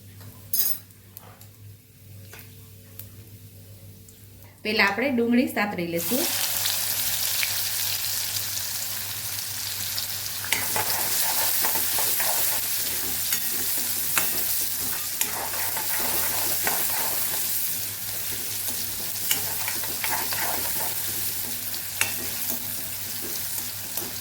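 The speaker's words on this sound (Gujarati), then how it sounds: "ડુંગળી આપણે અહીંયા મસ્ત એવી સતળાઈ ગઈ છે" Onions fry in hot oil with cumin and asafoetida in a pan, a loud continuous sizzle with repeated scraping and clinking of a spoon stirring against the metal, no one speaking.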